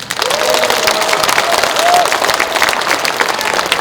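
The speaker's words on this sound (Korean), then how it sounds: "동행씨 박수 한번 주세요." The audience at a special lecture in Cheorwon breaks into loud, sustained applause with crowd noise, a voice briefly audible over the clapping near the start.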